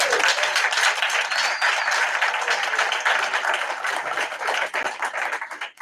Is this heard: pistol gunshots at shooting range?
no